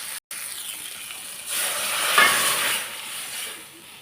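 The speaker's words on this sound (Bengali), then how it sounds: "এবারে আমি ডালটাকে ছুঁকে দেবো।" Dal being tempered in a pan for a simple thin tomato dal, giving a soft steady sizzle that swells in the middle and fades away, with no talking.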